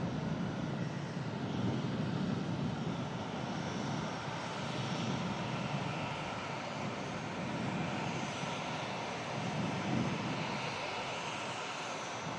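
A large airliner lands at an airport, its engines giving a steady broad roar with surging low rumble throughout, heard from a distance with faint talk beneath.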